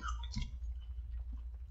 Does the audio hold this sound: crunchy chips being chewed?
yes